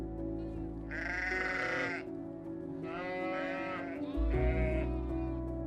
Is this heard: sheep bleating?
yes